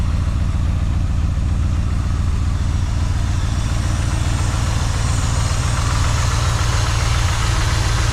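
1978 Ford F150 4x4 V8 fitted with a 2-barrel Holley carburetor, idling smoothly and steadily with a constant even rumble, close and loud without any talk.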